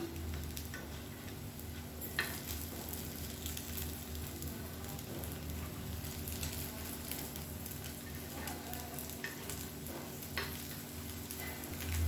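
Red rice kuzhi paniyaram sizzling softly in a paniyaram pan while being turned over, a faint continuous frying hiss with occasional light clicks and taps.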